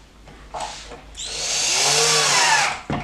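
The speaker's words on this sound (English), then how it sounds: "you'll just drill it and put the screws in." A power drill drives screws into a TV cover bracket, whirring in short bursts then a longer sustained run with a rising whine, close and loud.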